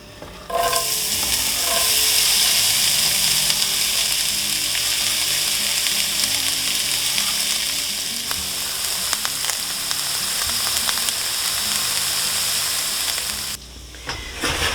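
Vegetables fry in salted butter in a pan, a steady close sizzle with stirring scrapes throughout before briefly cutting out near the end.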